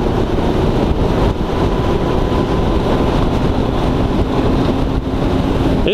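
Loud, steady engine roar from a Kawasaki ZX14 motorcycle riding through turns, with constant wind rush over it and no voices.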